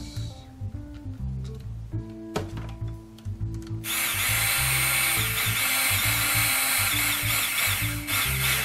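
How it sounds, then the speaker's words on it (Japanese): A loud electric drill whirs steadily, starting with short bursts and then running continuously at high speed, close by. "電動ドリルいいね。"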